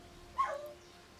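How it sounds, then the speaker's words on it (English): A single short, distant dachshund bark, faint against a quiet background. "Apologies if you can hear my dachshund barking."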